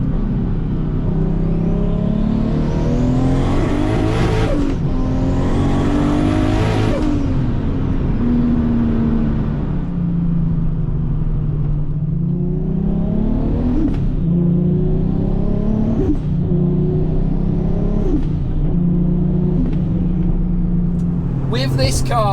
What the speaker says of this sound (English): with this car, I am enjoying the little drive out just to double check everything.